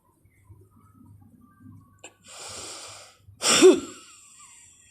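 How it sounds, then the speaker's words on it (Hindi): Forceful breath expelled through the nose during the Agnisar Kriya yoga exercise, a close hissing rush followed by a sharper, stronger exhalation, preceded by faint low murmurs. "इसमें हम सांस को पूरी तरीके से छोड़ देते हैं, उसके बाद पेट को अंदर बाहर चलाते हैं।"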